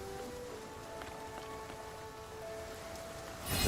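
Rain falling in a cozy video game, a soft steady patter of drops on surfaces with faint chimes and tones above it, rising into a louder rush at the very end.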